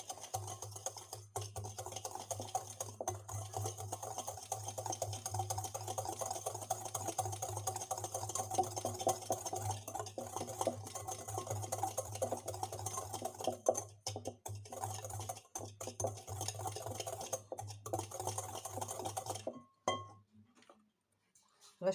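Room-temperature butter and sugar being mixed for a simple everyday cake: a steady low hum with constant fine ticking and clinking against the bowl, quiet and continuous for about twenty seconds before it stops.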